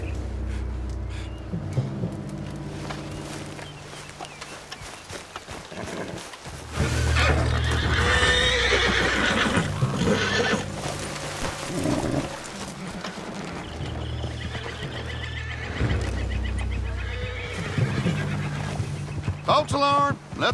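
A horse in the Red Dead Redemption 2 video game whinnies loudly several times while hooves clop on the ground, set against low music, with voices talking at times.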